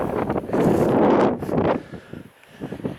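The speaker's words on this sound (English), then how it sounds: "I'm going to turn this way because the wind's from behind me." Gusty wind buffets the microphone outdoors at Woodhead castle, rising in loud rumbling surges that drop away briefly before picking up again.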